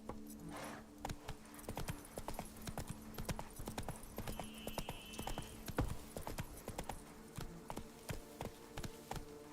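Roach the horse gallops in The Witcher 3 video game, in the Toussaint region, with steady, rapid hoofbeats thudding close and clear throughout over a soft ambient backdrop.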